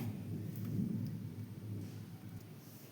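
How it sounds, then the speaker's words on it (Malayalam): Distant thunder rolls as a low, continuous rumble, faint and steady, with a soft wash of rain behind it. "ഇല്ലെങ്കിൽ ഇടിയെല്ലാം വരുന്നുണ്ട്"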